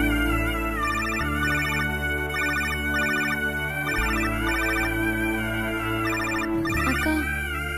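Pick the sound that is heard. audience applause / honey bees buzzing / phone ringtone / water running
phone ringtone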